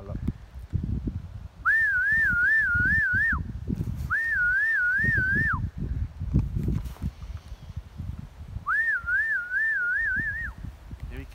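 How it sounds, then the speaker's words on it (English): A falconer calling back a bald eagle gives three warbling, trilled whistle calls, each about two seconds long, loud and close, with footsteps and rustling underneath. "Heard the whistle"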